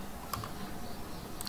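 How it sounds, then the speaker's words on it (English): Numbers typed on a computer keyboard, a few faint light key taps spaced apart over a quiet room hum. "I am going to type numbers"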